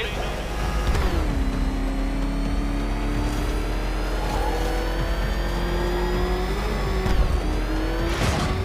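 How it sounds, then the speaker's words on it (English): The Batmobile engine in the video game Batman: Arkham Knight roars and revs continuously, loud and close, with pitch shifts and brief tire-squeal bursts, while a voice speaks over it. "Can that ramshackle motor handle this?"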